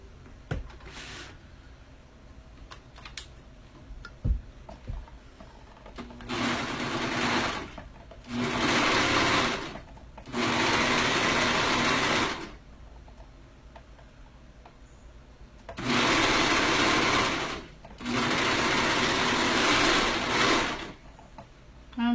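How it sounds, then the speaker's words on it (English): A sewing machine stitches fabric in several sustained bursts of rapid whirring, each lasting a couple of seconds and separated by quiet pauses with faint handling clicks, close by. "I'll just sew it on."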